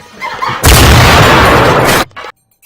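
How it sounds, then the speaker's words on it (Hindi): A single sustained burst of loud gunfire during a comic bank robbery, a dense blast lasting over a second that cuts off abruptly, followed by a brief faint echo and silence. "ये फायरिंग कौन कर रहा है?"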